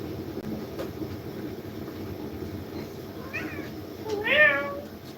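A cat meows twice near the end, the second call louder and longer, over a steady low rumble of background noise in a home.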